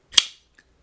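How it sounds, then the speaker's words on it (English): A Rike Knives Tulay pocketknife snaps open or shut with one sharp, loud, percussive click that has a brief bright tail, then a tiny faint tick follows. "This is loud when it closes and when it opens. It's a pretty solid and percussive"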